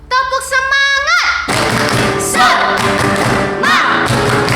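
A group of children and adults at a Sunday school service doing a rhythmic spirit clap, a sung tonal voice opening, then a burst of dense clapping and thumps from the crowd, with voices mixed in.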